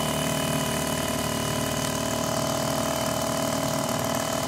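A 1979 Mercury 2 horsepower outboard motor runs steadily, a loud continuous buzzing drone with a fast even rhythm, close up and without pauses.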